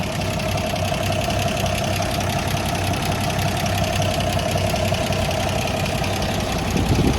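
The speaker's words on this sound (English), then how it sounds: "when I get in to show you the inline 6, at least the spark plug cables, you can get a listen to it" A 1979 Toyota Land Cruiser FJ40 with its inline six engine running, heard close up as a steady, loud idle with an even rumble and no variation throughout.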